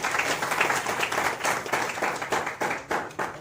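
An audience claps at a Hindi book launch ceremony, dense sustained applause filling the room for several seconds without speech.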